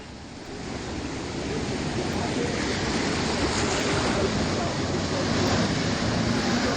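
Floodwater surges and churns loudly and steadily as a vehicle drives through a flooded road during heavy rain in Rajasthan, with a wash of water and wind noise filling the whole stretch and no clear voices.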